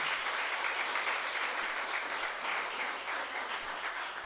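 A church congregation claps hands in praise, a dense, steady wash of applause that holds evenly throughout, heard from a distance at moderate level with no voices on top.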